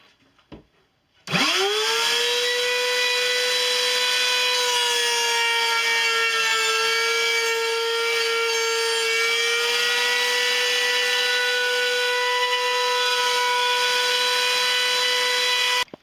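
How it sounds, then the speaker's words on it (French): A wood router fitted with a round bit, a blade on each side and a small bearing, cuts wood while building a king-size bed frame. It spins up sharply, then holds a loud, steady, high-pitched whine for about fifteen seconds. "c'est une fraise ronde avec une lame de chaque côté et un petit roulement ici que je vais monter sur ma défonceuse"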